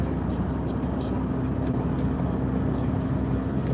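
A steady low engine and road rumble from a car driving home fills the cabin continuously, with voices talking over it.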